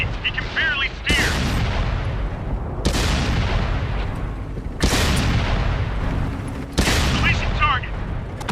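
Heavy artillery shells in World of Tanks fall as four loud, booming impacts at regular intervals, each with a sharp onset and a long rumbling tail around a tank, with brief game voice callouts between.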